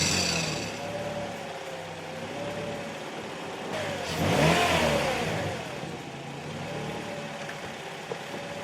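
A 2006 Chevy Cobalt engine after new spark plugs cranks and catches, surges in a brief rev, then settles into a steady idle close to the microphone, with no voices.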